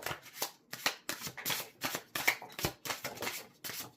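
Tarot cards being shuffled by hand in a quick, even rhythm of crisp riffling bursts, close and fairly soft, with no talking over them.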